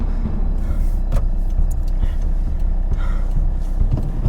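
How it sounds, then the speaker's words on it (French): A car on a road, a steady low engine rumble that stays loud and close throughout as it drives by. "Pourquoi faut-il toujours qu'il y ait des voitures qui arrivent à ce moment-là?"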